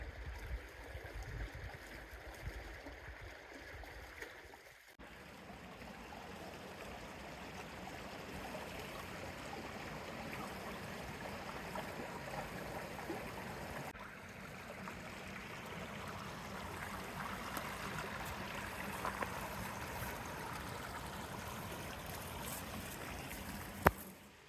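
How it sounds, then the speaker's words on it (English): Robinson Creek, near Twin Lakes, California, flows as a steady, moderately close rush and trickle of water. Occasional bumps and movement from a canoe or someone sitting nearby are heard over it. "That's Robinson Creek."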